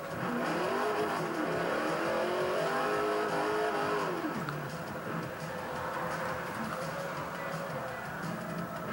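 Rear-wheel-drive car drifting through a corner in the Forza 4 racing game: a steady, loud engine drone with rising and falling revs and tire squeal, and the pitch dropping sharply midway.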